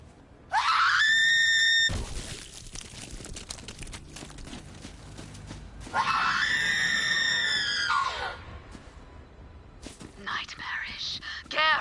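A Banshee in Borderlands 3 screams into a recorder in two long, piercing, shrill wails separated by a gap, very loud and close, with rustling and crackling noise between them and a shorter warbling cry at the end.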